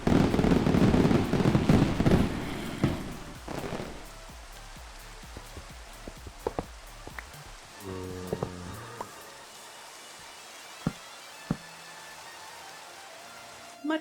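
A fireworks effect set off by a chat command in a stream crackles and pops densely at first, then thins to scattered, sharp individual bangs with quiet gaps between.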